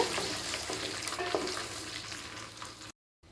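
Crushed garlic and curry leaves are stirred in hot frying oil, giving a continuous close sizzle with soft scraping strokes that ends in a sudden brief silence, no one talking.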